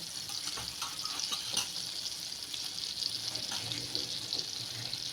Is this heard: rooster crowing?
no